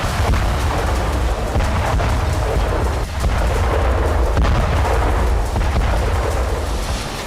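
A continuous, heavy rumbling roar of US ATACMS missile explosions, loud and close, with low booming that never lets up.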